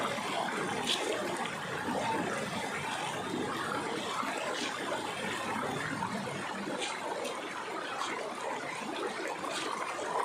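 Water from a hot spring river rushes in a strong, steady continuous flow, loud and close, with a few faint splashy ticks over the constant roar.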